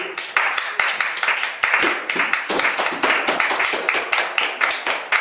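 A church congregation applauds in a steady burst of many hands clapping together, dense and fairly loud, close to the room, sustained for several seconds with faint voices mixed in.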